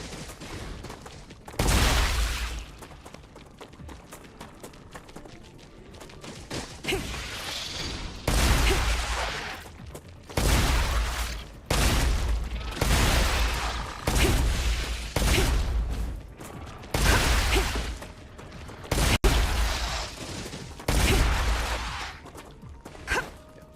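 Shotgun fire in the game StarRupture booms in a long series of heavy blasts spaced a second or two apart, loud and close, each with a short ringing tail.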